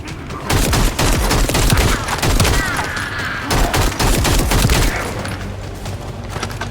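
Rapid bursts of gunfire from a shotgun in the video game The First Descendant, loud and dense, with overlapping blasts and booms repeating for several seconds before easing.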